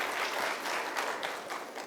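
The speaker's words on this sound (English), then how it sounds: "Thank you for the applause." Audience applause in a hall during a corporate talk on workplace inclusion, a steady wash of many hands clapping at moderate level for about two seconds, no voices over it.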